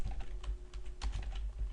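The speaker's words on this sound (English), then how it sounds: "if we start typing ps person equals cPerson" Fast clicking keystrokes on a computer keyboard while code is entered into a script editor, a close, steady run of taps with brief uneven pauses and no talking.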